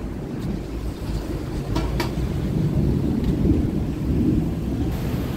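Thunder during a rainstorm rolls as a loud, deep, continuous rumble that swells and holds for several seconds over a steady wash of rain, with no talking.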